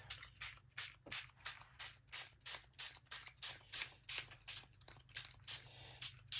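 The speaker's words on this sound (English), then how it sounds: "I'm going to start with just a little light distressing with the spray ink" A rapid series of short bursts from a spray bottle of ink, evenly spaced hissing pumps repeated close by, about three per second.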